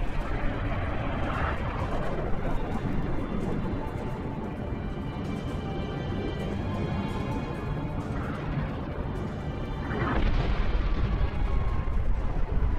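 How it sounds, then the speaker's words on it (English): An orbital defense cannon fires in the video game Halo Reach, a heavy booming blast rising out of a constant rumbling battle din. Smaller explosive bursts break through the sustained roar now and then. "Orbital defense is standing by to take the shot."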